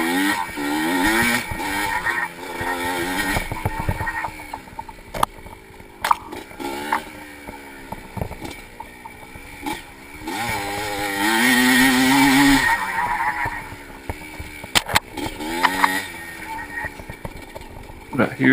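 A 1985 Yamaha IT 200 two-stroke dirt bike races in a vintage cross-country event at Barber, its engine wailing up and down through gear changes, close and continuous, with occasional speech over it.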